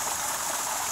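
Waterfall in Hoosier National Forest, Indiana, a steady, broad rushing roar of falling water, close and constant with no pauses or voices.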